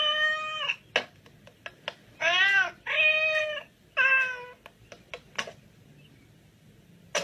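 A house cat meows several times in a row, a series of clear, fairly loud, drawn-out cries with short gaps between them and a few sharp clicks scattered through the pauses.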